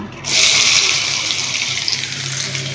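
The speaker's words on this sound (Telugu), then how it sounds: "ఆయిల్ అయితే వేడవుతుంది ఇందులో మనము ఉల్లిగడ్డలు అయితే వేసేసుకుందాం" Sliced onions hit hot oil in a pan while making an egg curry, setting off a sudden, loud hissing sizzle that starts abruptly and then continues steadily, close by, with no talking.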